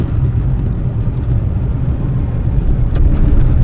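An Austin Metro engine rumbles steadily while driving, a low continuous drone with slight unevenness and a brief sputter near the end as it misfires.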